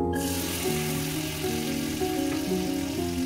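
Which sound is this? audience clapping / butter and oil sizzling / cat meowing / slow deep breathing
butter and oil sizzling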